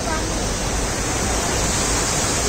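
Water rushes at Sahastradhara waterfall near Dehradun, a loud, dense, unbroken roar of falling and splashing water filling the whole scene.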